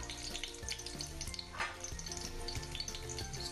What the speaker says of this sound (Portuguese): Aqui eu fiz um dente de alho laminado.